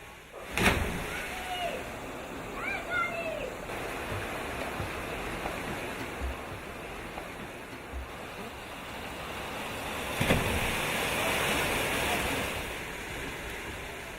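Steady rushing water roars continuously as mountain waterfalls pour into a clear pool in Artsakh, with a couple of louder splashes and some wind noise.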